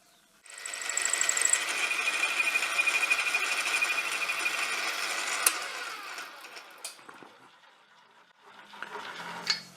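Metal being shaved off a curved steel tool rest for bowl turning, a steady grinding-machine whir running for several seconds, then tapering into quieter scattered scraping and taps near the end.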